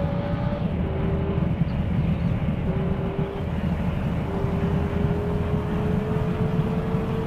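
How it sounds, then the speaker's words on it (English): Lamborghini Urus engine in the Car Parking Multiplayer game, a steady synthetic droning hum with faint shifting tones holding at high speed, constant and unbroken with no voices. "My Lamborghini Urus touched 320 kilometers per hour."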